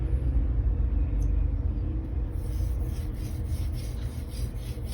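A Blue Super steel 240mm gyuto is stroked across a Naniwa whetstone in steady back-and-forth rasping passes, a close, continuous scraping over a low rumble with no talk.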